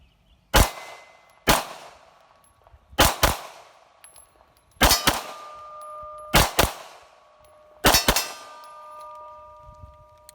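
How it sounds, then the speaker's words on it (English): A Rock Island Armory GI standard M1A1 FS 1911 pistol fires about ten sharp, loud shots, mostly in quick pairs spaced a second or two apart, each with a short ringing tail and no talking. "I'm gonna load some more rounds, do some more shooting"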